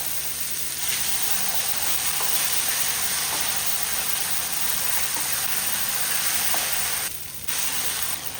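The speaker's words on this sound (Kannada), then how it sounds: "ಈಗ ಮಸಾಲೆಯನ್ನು ಎಣ್ಣೆ ಸೈಡಿಗೆ ಬಿಡುವಷ್ಟು ಇದನ್ನು ಫ್ರೈ ಮಾಡುವ" Ground masala frying in oil in a pan after onions and tomatoes, a loud steady sizzle with stirring scrapes, briefly dipping near the end before resuming, no talk.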